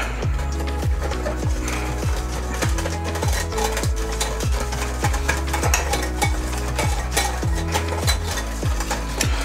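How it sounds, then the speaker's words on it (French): A spoon stirs cornstarch into a lemon cream mixture for lemon muffins, scraping steadily around a bowl or pan in a quick, even rhythm for the whole stretch, close and clear with no talk. "On va bien tout mélanger ceci."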